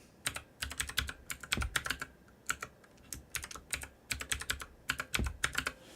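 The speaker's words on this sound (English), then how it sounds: "That's a lot of typing." Rapid bursts of typing on a computer keyboard, close and crisp, with clusters of key clicks broken by short pauses and no voices.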